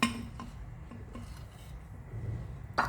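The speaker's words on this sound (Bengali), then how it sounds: "ওকে, এটা হচ্ছে মাটির ঝক, আর এটা হচ্ছে ঝকের যে ঢাকনা।" A clay jug and its clay lid are handled up close, with rubbing and scraping and a few sharp knocks and clinks, the loudest at the start and near the end.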